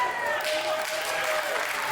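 A Comic-Con crowd in a wrestling arena applauds and cheers for a wrestler, dense continuous clapping and roaring at full volume, with a commentator's voice faintly under the din.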